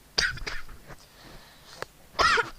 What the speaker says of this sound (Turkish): Bu aralar çok öksürüyorum.